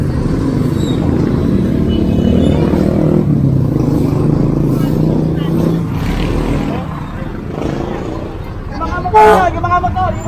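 Motorcycles and other vehicles pass along a busy street while horns toot now and then, with people shouting and chattering over the traffic rumble nearby.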